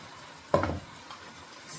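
Gizzard added to a pan of frying pepper gives a single short burst of sizzle and stirring clatter, then settles to a quiet low fry.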